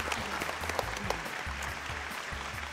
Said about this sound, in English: Clap, clap, clap, clap.